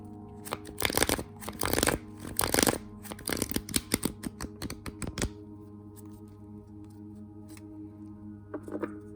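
Large Conver tarot cards with sharp corners riffle and shuffle in quick, crisp bursts for several seconds, close by, then fall quiet apart from a faint final flick.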